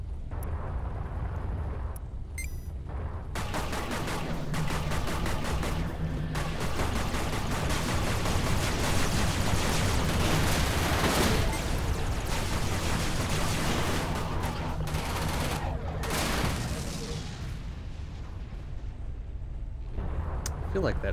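Spaceship weapons fire and explosions in the space combat game Everspace, a sustained heavy barrage of blasts and rumbling impacts with brief lulls, loud and continuous, with a voice talking over it.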